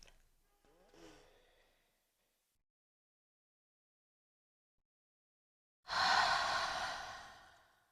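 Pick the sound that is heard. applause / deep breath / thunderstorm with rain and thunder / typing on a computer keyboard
deep breath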